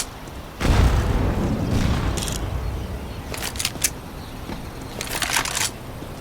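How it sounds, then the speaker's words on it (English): A grenade blast in the mobile shooter CSSO Mobile on the Inferno map: one heavy boom near the start that rumbles and fades, followed by a few sharp, crackling in-game reports. "Grenade out."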